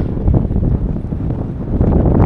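Strong wind on a pier with yachts on Hiiumaa island, Estonia, buffets the microphone in low, rumbling gusts that rise and fall throughout.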